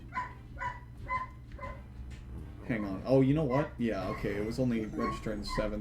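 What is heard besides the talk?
dog barking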